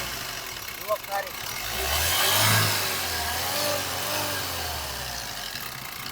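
A 2011 Maruti SX4 diesel engine runs near at idle, rising briefly into a rev and settling back to a low steady hum, while someone speaks over it.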